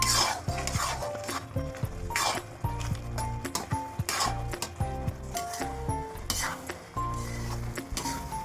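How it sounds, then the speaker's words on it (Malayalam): Carrot halwa being stirred steadily in a pan of condensed milk with a utensil, a repeating scrape and clink of metal on metal over a soft background bubbling, loud and close with no talking. "ഇനി ഇത് തുറന്ന് വെച്ച് കൈവിടാതെ ഇളക്കി കൊടുത്ത് ഇതിനകത്തെ പാലെല്ലാം നമുക്കൊന്ന് വറ്റിച്ചെടുക്കാം"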